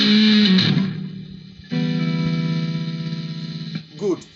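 An electric guitar played through a distortion effect rings out in sustained, buzzy chords with a gritty hum, followed by a brief voice at the end.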